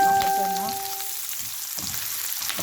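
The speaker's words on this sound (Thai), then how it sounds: "ยยก็จะมาใส่กระเทียมกับพริก เนี่ย มาผัด" Garlic and chili stir-frying in hot oil with crispy pork belly, a broad sizzle with tonal ringing at first that settles into steady frying, with scraping stirs near the end.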